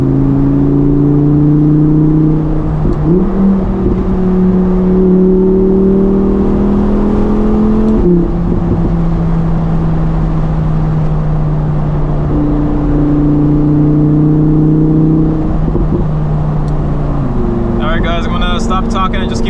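Lamborghini engine droning loudly from inside the car while driving in winter, holding steady pitches with several gear shifts and a rising rev near the end.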